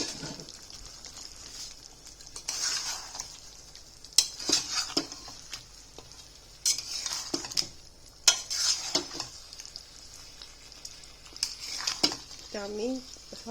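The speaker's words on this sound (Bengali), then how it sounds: "আমি হালকা করে সব দিকে ভেজে এটাকে কিছুক্ষণ রান্না করব।" Lightly browned roast pieces being fried and stirred in a pot, with a metal spoon scraping and clinking against the pot in irregular bursts over a soft sizzle, close by.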